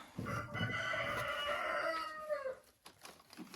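A hen or rooster in a henhouse lets out one close, loud crow lasting about two seconds, followed by a short, quieter stretch of faint rustling and clucking.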